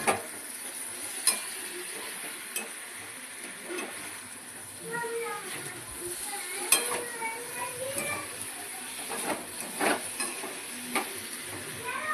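Curry masala is sautéed in a pan with a soft, continuous sizzle, broken by occasional scrapes and clinks of a stirring spoon, while someone talks over it.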